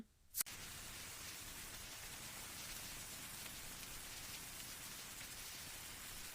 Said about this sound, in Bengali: বাইরে ঝুম বৃষ্টি